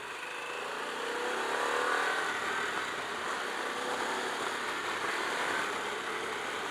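A Harley-Davidson Pan America Special motorcycle being ridden, a steady engine drone mixed with rushing wind noise, continuous and unbroken, with no talking.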